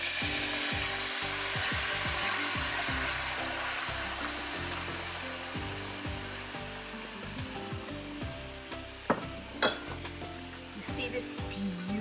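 Coconut cream goes into a saltfish rundown curry in a home kitchen, setting off a continuous loud sizzle with spoon scrapes and clinks against the pot as it is stirred.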